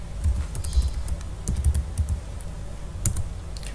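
Typing on a computer keyboard to enter a Java version command in the Windows command prompt, with bursts of close, clicky keystrokes in irregular clusters and short pauses between them.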